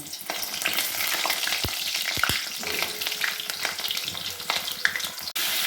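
Pointed gourd pieces frying in hot oil in a pan, a loud continuous sizzle with crackles and a few sharp clinks and stirring scrapes, no talking.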